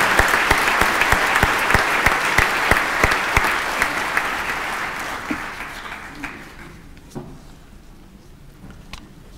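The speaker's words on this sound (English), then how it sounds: "Let's give them a warm round of applause as they leave the hall." A hall full of people gives loud, sustained applause at a Stellenbosch University science graduation ceremony, held as graduates leave. The clapping is dense at first, then thins and fades to a few scattered claps.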